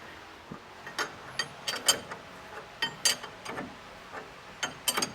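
Wrench ratcheting on a brake fitting during a Chevelle disc brake upgrade, irregular clicking bursts close by and fairly quiet, with no talking.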